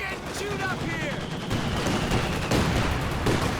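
Mortar barrage from a Company of Heroes 2 match: repeated heavy explosions and gunfire-like bursts rumble under steady battle noise, with impacts thickening toward the end.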